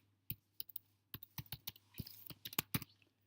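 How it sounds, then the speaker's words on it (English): A run of close, quiet clicks on a computer keyboard as an axis title is entered in Excel, starting as scattered single taps and speeding up into a denser burst toward the end, with no voices. "So we just type that in."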